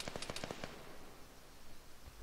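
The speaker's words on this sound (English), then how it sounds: "I'm taking direct fire from that HMG." Heavy machine gun fire from an HMG in a military video game rattles as a rapid burst of about six shots at the start, then fades into quiet ambience.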